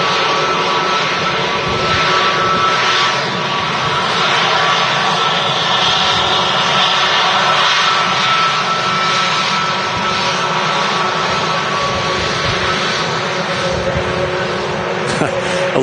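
A Lufthansa airliner arriving from Munich at Manchester Airport, its engines giving a loud, steady roar that holds throughout with faint background noise.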